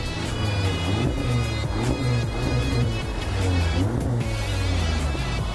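A 2016 Audi S3 with an upgraded exhaust accelerates hard, giving a loud, continuous engine roar and exhaust drone heard from inside the car, with no talking.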